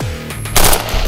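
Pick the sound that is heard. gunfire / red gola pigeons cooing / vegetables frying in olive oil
gunfire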